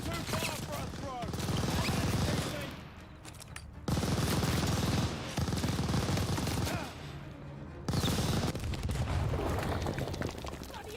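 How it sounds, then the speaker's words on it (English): Machine gun fire from a tower emplacement rattles in Call of Duty: Vanguard, loud, dense bursts of rapid shots lasting a few seconds each with short quieter gaps between them, layered with battlefield noise. "Keep that tower MG down! Unloading on the MG!"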